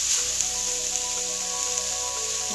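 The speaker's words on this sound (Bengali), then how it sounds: "এবারে এই কড়াতেই গ্রেট করা গাজরটা অ্যাড করে দেব।" Grated carrot hits a ghee-greased wok for carrot halwa, giving a steady, close, hissing sizzle that runs throughout with faint stirring scrapes and no voices.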